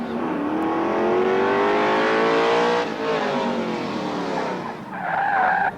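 A fire-fighting team's competition vehicle, driven by an electrician, roars off the starting line at a televised 1977 firemen's event, with a loud sustained engine and tire noise that shifts pitch midway and then fades under crowd sound.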